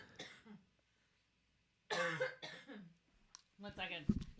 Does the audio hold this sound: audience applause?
no